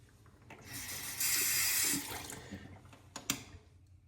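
Tap water runs and splashes as a face is rinsed between passes of a wet shave. The stream is steady, swells into a louder rush midway, then breaks into scattered splashes and drips. No one speaks.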